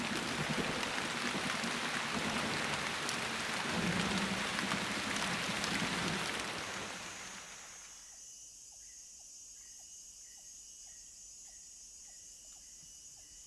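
Heavy rain pours down in the jungle as a loud dense hiss that fades away over several seconds, leaving quiet with faint insect chirps.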